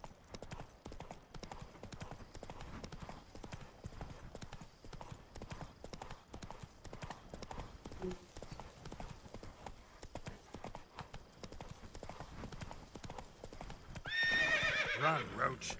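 Roach the horse gallops in The Witcher 3 with rapid, steady clip-clop hoofbeats that run through the whole stretch, and a whinny rises near the end.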